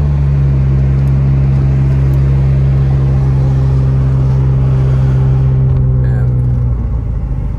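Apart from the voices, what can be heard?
car driving along a lake road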